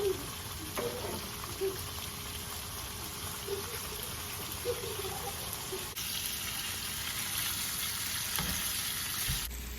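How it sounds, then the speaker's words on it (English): Drained noodles fry in a hot pan at home. A soft, steady sizzle and hiss runs throughout, with a few faint clinks and stirring sounds. "Sizzling."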